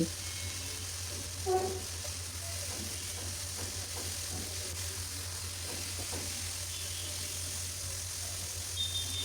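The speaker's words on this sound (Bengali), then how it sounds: "আদা রসুনের পেস্ট দিয়ে চিকেনের সঙ্গে একটু ভেজে নিলাম" Chicken frying in a pan with ginger-garlic paste and cumin powder gives a continuous soft sizzle. Faint scraping stir strokes come through now and then, and no one speaks.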